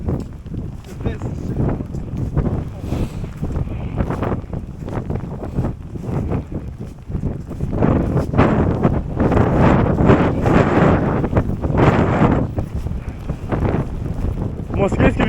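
Strong wind on a mountain buffets the microphone in loud, gusty roars that swell and ebb continuously, with voices talking at times underneath.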